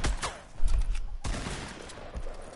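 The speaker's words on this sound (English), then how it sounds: "He shot at the tree." Fortnite gunfire, several quick bursts of shots spread across the moment, loud and fairly close with no voices.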